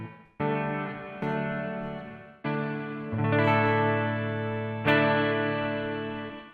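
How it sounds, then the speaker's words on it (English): An electric guitar plays chords through a Donner REVECHO pedal set to reverb with decay around 12 o'clock, each strum ringing out in a lush, chamber-like wash that slowly fades beneath the next, played alone. "Very, very echoey, very nice and chamber-ish. So let's bring the decay up to around 12 o'clock."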